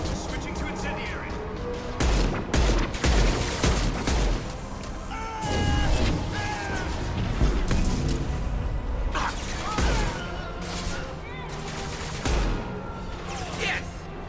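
Incendiary-ammo gunfire in the sci-fi shooter Mass Effect 2: loud, dense bursts of shots and heavy booming impacts that come in rapid clusters over a continuous din of combat, with voices mixed in.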